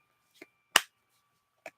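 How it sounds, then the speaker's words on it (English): A single sharp hand clap rings out crisply and alone, flanked by two softer faint clicks before and after in otherwise near silence. "One clap. That's all it gets."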